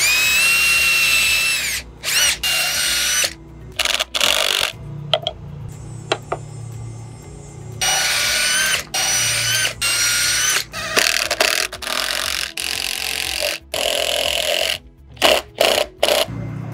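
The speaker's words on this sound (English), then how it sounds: "I'm going to drill and mark to drill my pilot hole for the first screw to mount this bracket." Power drill boring a pilot hole for the first screw of a mounting bracket for an aluminum handrail side-mount post, heard as loud, close, intermittent whirring bursts separated by brief pauses.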